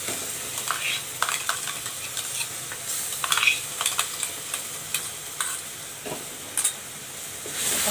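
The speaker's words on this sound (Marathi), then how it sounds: "हा मसाला इथे परतून घ्यायचा आहे तेलामध्ये चांगला मिक्स करून घ्यायचा आहे" Freshly ground masala being sautéed in oil for stuffed bitter gourd, with repeated spoon scrapes and clinks against the pan over a continuous light sizzle, close and irregularly spaced.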